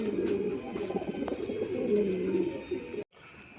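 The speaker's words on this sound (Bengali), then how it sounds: "বন্ধুরা এখানে আরেকজন রাজগোল্লা কবুতর আছে দেখেন" Rajgolla pigeons coo close by in low, throaty, rolling calls that overlap continuously before cutting off abruptly.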